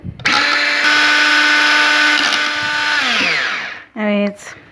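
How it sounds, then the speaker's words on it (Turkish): Nescafe dalgona coffee whipped with an electric mixer, a loud steady whine that holds for a few seconds, winds down, stops, then gives one short burst near the end. "Ben zaten bu çırpma işlemine fazla katlanabilen bir insan değilim."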